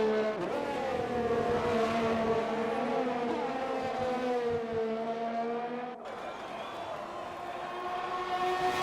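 Racing cars scream down a straight in a racing game, the sustained engine whine climbing steadily in pitch, then dropping sharply as gears shift before rising again, loud and close.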